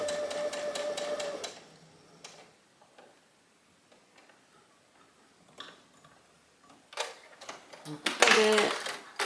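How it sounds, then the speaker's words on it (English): A sewing machine back stitches along a knit top seam in rapid ticking bursts, a fast rattle at the start and louder runs near the end, separated by quieter pauses with faint handling sounds. "Back stitch again and sew down till I get to my little Y seam."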